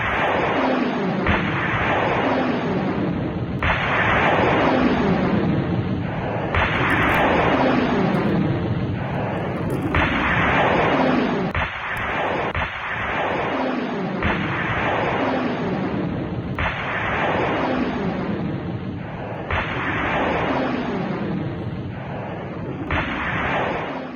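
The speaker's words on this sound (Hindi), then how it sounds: "अरब सागर में किस तरह से मिसाइल दागी गई" Missile launches from an Indian Navy warship in the Arabian Sea: a series of loud, roaring blasts about every three seconds, each swelling and then fading, with no voices heard.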